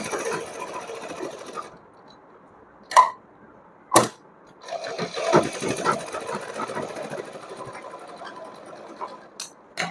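A sewing machine runs stitches through cotton fabric for a doll outfit, coming in bursts of steady whirring with short pauses and a few sharp clicks between runs, fairly close and clear.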